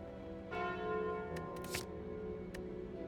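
A tolling bell from the Calling Bell relic in the video game Slay the Spire, a rich resonant chime sustaining and fading, with a few brief clicks and a short noisy burst over it.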